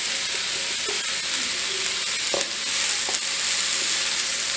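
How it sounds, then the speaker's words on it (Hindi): Macaroni with vegetables sautéed and mixed in a pan over low gas, giving a loud continuous sizzle with scraping, stirring strokes throughout, no talking. "इसको हमने मिक्स कर लेना है अच्छे से।"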